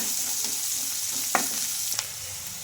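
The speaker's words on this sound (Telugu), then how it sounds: "కరివేపాకు కూడా వేసేసుకోవాలి మనకు ఆనియన్స్ అయితే కొంచెం కలర్ మారే వరకు అయితే ఫ్రై చేసుకోవాలి" Onions and curry leaves frying in oil in a pan, a steady close sizzle with a couple of sharp scrape or stir clicks, no voices.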